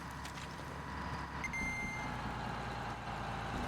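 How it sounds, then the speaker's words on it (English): Steady reversing beeps from a truck in Metal Gear Solid V, repeating over a low idling engine rumble with a faint air-brake hiss, heard at moderate distance with no talk. "Truck."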